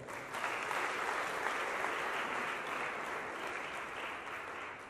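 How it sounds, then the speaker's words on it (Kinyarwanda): A crowd applauds at an official music launch event, a dense, steady burst of clapping that holds evenly throughout without a break, moderately distant. "Ndabasabye gukomera amashyi n'amatari yawe"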